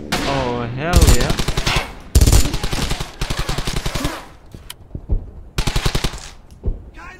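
Machine gun fire in the World War II shooter game Brothers in Arms: Hell's Highway, loud rapid bursts rattling in several sharp volleys with short gaps between them, shouted voices over the top.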